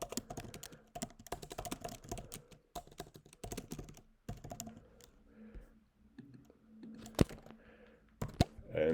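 Fingers type text on a computer keyboard in quick bursts of soft clicks, pausing briefly between runs and ending with a few firmer isolated key presses, fairly quiet and close with no talking.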